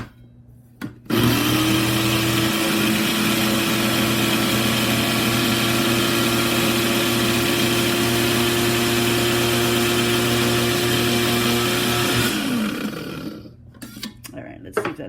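A 300W electric coffee and spice grinder runs loud and steady for about eleven seconds, with a strong whining motor tone, then spins down to stop.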